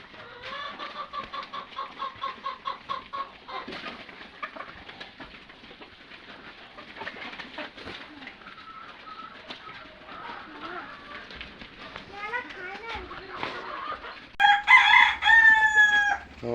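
Many layer hens cluck and murmur together while feeding on vegetables, over a steady din, with a louder burst of squawking calls near the end; no speech.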